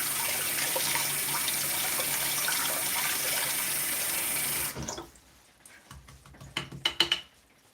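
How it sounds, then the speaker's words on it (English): A paintbrush is rinsed under a running tap, steady water flow for several seconds that cuts off, followed by a few soft knocks and handling clatters. "I'll rinse this paintbrush."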